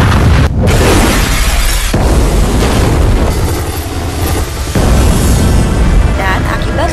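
A loud, sustained nuclear bomb blast after the bomb falls into a river roars through, with sharp cracks and debris-like rumbling that swell and fade over several seconds.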